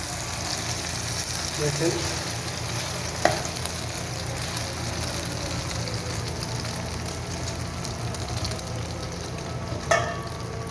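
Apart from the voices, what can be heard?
eggs frying in a little oil in a pan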